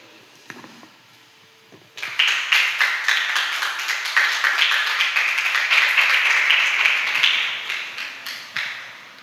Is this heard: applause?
yes